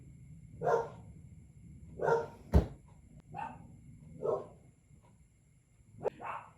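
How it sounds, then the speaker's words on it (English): A dog barks in separate bursts, about six times with pauses between, somewhat distant in an otherwise quiet space, plus one sharp knock. "My dogs are barking because the night cat is doing its walk"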